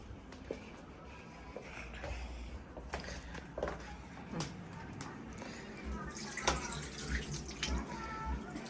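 Tap water runs steadily into a sink while a child washes their face, a soft continuous splashing with a few louder splashes near the end and faint indistinct voices at times.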